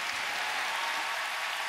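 Sustained applause from an arena crowd after a figure skating pair's short program at the World Championships, a dense, steady roar of clapping with no voices on top.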